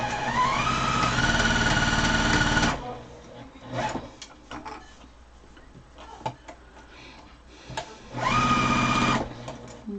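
Sewing machine stitching a French seam on a pillow, running in a loud steady whir for nearly three seconds, then quiet handling noises, then a second two-second run of stitching, close by.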